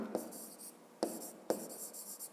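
Pen writing by hand on paper while working a school physics problem: quiet scratchy strokes broken by three soft taps, close and alone.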